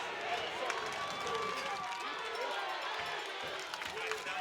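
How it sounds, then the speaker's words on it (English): An excited crowd at a Reidsville high school football game against Eastern Alamance roars in a dense, continuous wash of cheering and chatter, steady and fairly distant, with scattered claps and shouts. "And this crowd is juiced."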